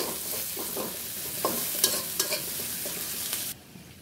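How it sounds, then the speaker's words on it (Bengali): Onions fry in leftover fish-frying oil, a steady close sizzle with intermittent stirring scrapes, cutting off abruptly near the end. "দেখো মাছগুলো ভাজার পরে যে তেলটা বাকি ছিল, সেই বাকি তেলে পেঁয়াজ ভেজে নিচ্ছি।"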